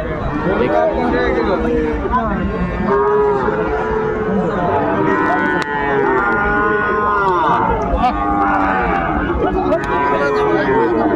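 Cattle, including Sahiwal bull calves, moo repeatedly at a livestock market in Dinajpur, several animals lowing over one another amid a busy crowd with people talking in the background.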